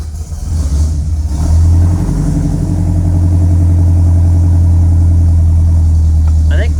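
A 1963 Pontiac Grand Prix with a 421 Tri-Power V8 runs close by, revving up in the first couple of seconds, then holding a loud, deep, steady drone, with a brief clatter near the end.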